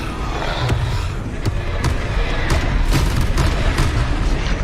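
A Confringo blasting spell bursts in the Hogwarts Legacy video game, a loud dense roar of booms and crackling impacts sustained throughout, close and without speech.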